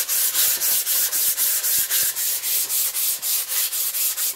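A painted canvas being quickly sanded by hand, a steady run of rhythmic back-and-forth scratchy strokes, close and even, repeating about sixteen times with no talking.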